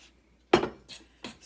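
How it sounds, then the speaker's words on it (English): A fork stirs cold liquid into a pie dough mixture in a bowl, giving one loud scraping clink followed by two softer ones, close and alone. "Stir it with a fork."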